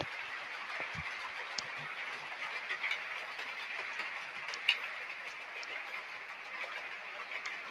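Model trains rumble along steadily at a faint, distant level, with a soft continuous whir and occasional light clicks and ticks.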